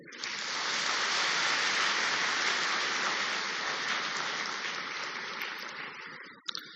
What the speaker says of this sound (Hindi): एक बार फिर ताली बजाओ।